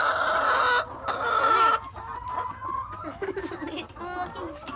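Chickens clucking close by in a coop during daily egg collecting, a run of loud, uneven clucks and squawks that tapers into softer, scattered calls.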